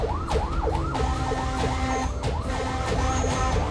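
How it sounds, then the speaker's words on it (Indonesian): A fire truck's yelping siren wails rapidly and continuously, with horn blasts and heavy engine rumble underneath, loud and close. "Sirine kencang dan klakson terus dibunyikan agar pengendara lain berkenan memberi jalan."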